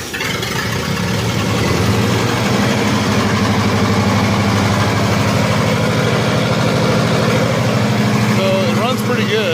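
A Lincoln SA-200 welder engine runs after being started with a little choke, a loud, steady low rumble with a regular chugging beat that continues throughout, close by.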